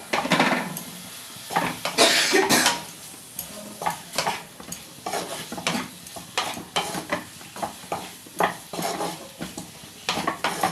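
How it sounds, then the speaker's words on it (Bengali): Potatoes fry in a pan for a cabbage and lentil dish, with a sizzle under repeated rhythmic clanks and scrapes of a utensil against the metal pan. "এর আগে আলুটা ভেজে নেব"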